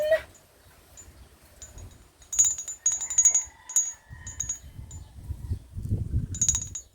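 Several small ceramic bells ring with bright, high, clinking tones, scattered and uneven, while soft rustling and low handling noises rumble underneath.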